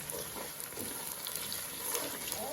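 Curry leaves, with green chillies and ginger, frying in hot oil in a pan for a garlic pickle, giving a steady, moderate sizzle with no talk over it.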